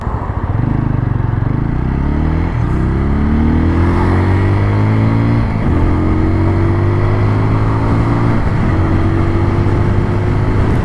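A TVS Apache RTR 200 4V BS6 motorcycle engine revs loud and close, climbing through repeated rising pulls with short dips between gear changes, a continuous buzzing roar throughout.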